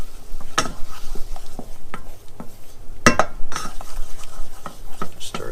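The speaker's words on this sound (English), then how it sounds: "Stir this around for a minute or so. Basically cook the flour." Flour being stirred in a pan to cook a roux for spinach gratin: a utensil scraping and clinking against the pan with a light sizzle underneath, steady and close, with a couple of sharper knocks.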